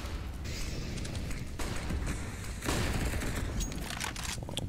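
A grenade explosion during a professional Counter-Strike: Global Offensive match on the Mirage map, a dull blast among a dense clatter of rapid gunfire and in-game noise, loud and continuous with no voices.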